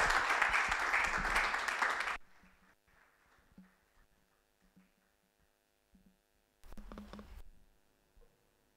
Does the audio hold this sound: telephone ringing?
no